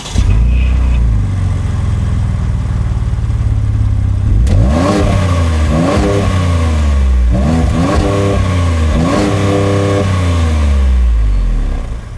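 The twin-turbo V6 of a 2019 Ford Edge ST idles steadily, then is blipped and revved several times in quick succession. Each rev rises sharply and falls back, close and loud, with no talking.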